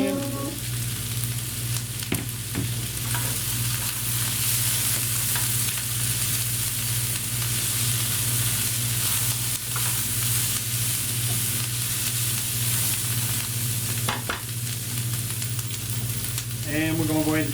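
Chicken, cabbage and peppers stir-frying in a pan give a steady, loud sizzle that runs the whole time. A few clinks and scrapes of stirring break in near the start and end, with no talking.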